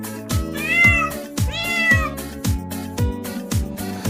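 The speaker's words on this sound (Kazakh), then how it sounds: "мысық" A domestic cat gives two clear, drawn-out meows, one after the other, set over a steady rhythmic children's music beat that thumps throughout.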